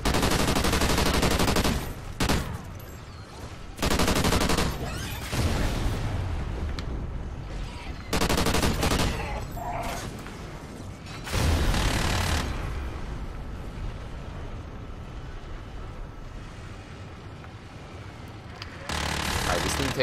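Loud, sustained automatic gunfire from a spin-up gun in Call of Duty: Ghosts Extinction mode, with long continuous streams of shots broken by short gaps and a voice talking at times underneath.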